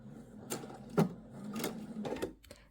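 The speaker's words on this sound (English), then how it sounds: "I'm going to drop my needle, make a stitch" A sewing machine sewing a seam on fabric for a welt pocket on pants, several soft mechanical clunks and whirs in a quiet room, faint and close.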